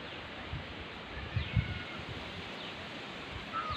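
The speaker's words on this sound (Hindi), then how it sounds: "हवा चल रही है" An evening breeze moves through leaves outdoors, a soft, steady rustling hiss that stays faint and even, broken by a couple of small, close bumps and thuds partway through.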